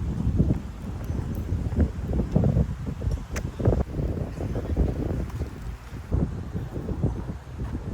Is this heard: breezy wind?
yes